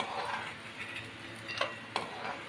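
Sandge, sun-dried lentil dumplings, fry in hot oil with a soft crackling sizzle, punctuated by a couple of sharp metallic clinks of a spoon against the pan, close and brief with no talk.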